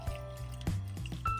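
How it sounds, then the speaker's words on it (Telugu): Water poured into a pot of mutton biryani pieces, a few gurgling splashes and drips in quick succession, close and moderately loud. "దీంట్లో నేను వాటర్ యాడ్ చేస్తున్నానండి."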